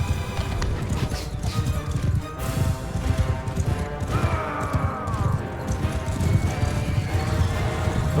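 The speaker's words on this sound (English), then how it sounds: "Except the cavalry run all over the place." Cavalry horses gallop across a Mount and Blade II Bannerlord battlefield, a dense continuous clatter of many hooves with a horse whinny partway through, loud and close over constant battle noise.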